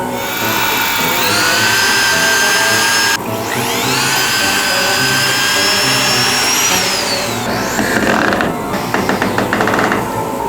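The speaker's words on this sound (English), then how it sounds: "Fine, we'll drill a pilot hole." A power drill boring a pilot hole in a cold garage being turned into a workshop: a loud, steady whine with rising and shifting pitch, a brief break near three seconds, then sputtering, uneven bursts toward the end.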